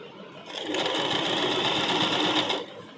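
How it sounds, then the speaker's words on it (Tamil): A sewing machine runs in one steady burst of about two seconds, stitching across lace on a puff sleeve, close and even-paced, starting and stopping cleanly with no talk. "ஃபுல்லாக லேஸ் மேலேயே ஸ்டிச் பண்ணுங்கள்"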